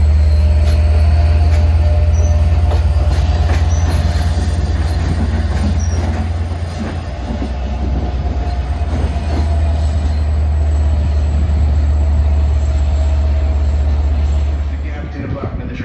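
A Long Island Rail Road train, the Penn Station to Babylon service, pulls into Jamaica station on track 6: a loud, steady low rumble of wheels and cars rolls through, with occasional rail squeals and a slight easing near the end.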